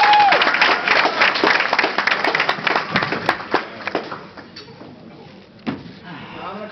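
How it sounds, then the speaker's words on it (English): Guests at a wedding reception applaud in a dense burst of clapping that gradually thins into scattered claps, with a few voices mixed in. "Give him a round of applause, too."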